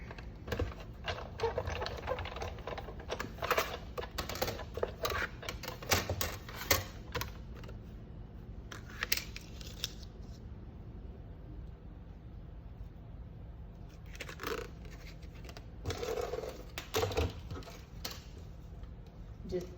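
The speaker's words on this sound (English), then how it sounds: "I'm going to die cut this out of the gold" A die cutting machine runs gold cardstock through its plates, giving a steady low mechanical rumble with clicking, tapping bursts throughout, while a person talks intermittently over it.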